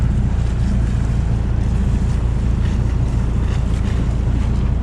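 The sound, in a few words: river current rushing past a sailboat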